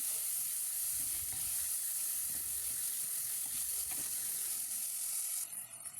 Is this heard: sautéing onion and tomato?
yes